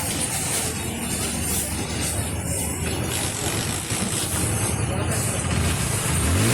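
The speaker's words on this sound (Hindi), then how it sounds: "तो गाड़ी स्टार्ट हो चुकी है और गाड़ी आप आवाज़ सुन सकते हैं" A Hero Splendor BS6 motorcycle engine runs steadily after starting, a loud continuous rumble with broadband noise that holds level throughout and swells slightly at the end.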